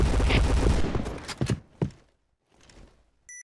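Gunfire in the video game PUBG comes as a cluster of rapid shots and thuds that taper off into a few scattered, fainter reports, followed by a short electronic beep at the end.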